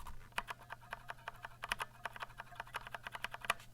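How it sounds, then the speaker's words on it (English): Rapid, crisp keystrokes on a Vortex Cypher mechanical keyboard with keycaps fitted, each switch press a sharp close click in a fast, slightly uneven rhythm, with no voice over it. "you may end up actually hearing that spring ping"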